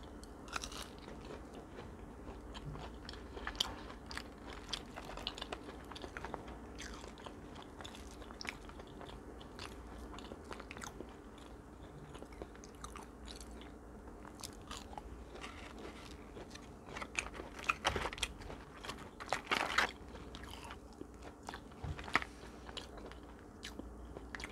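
Crunchy fries eaten alongside an ahi tuna burger give close, quiet, steady chewing and crisp biting, with crackly bites recurring throughout and no talking.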